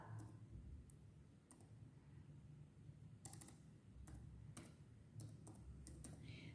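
Sharp computer mouse clicks sound in scattered single and double taps while data is entered, close and fairly faint over a low steady room hum, with no talking.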